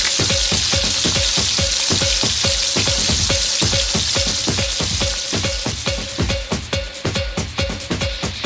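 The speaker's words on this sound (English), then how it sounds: "we add in our cumin seeds and keep stirring" Cumin seeds fry in hot oil for spicy Swahili pilau, a steady close sizzle broken by quick, regular scrapes and taps of a spoon stirring the pan.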